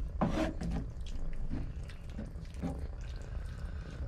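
Water being added to a flour-thickened gravy on a narrowboat stove for shepherd's pie, a few soft splashes and wet trickles, close and moderately loud, with no voices.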